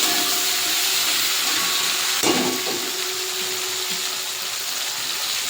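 Ground ripe red chili paste hits hot oil in a pan for a Bengali fish curry with ridge gourd and potato, giving a loud, steady hissing sizzle with a brief splattering burst partway through and no speech.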